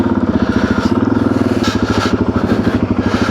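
A heavy motorcycle carrying a full fuel tank and Safari tank runs with a rapid, pulsing engine throb, loud and close, steady throughout with no voices.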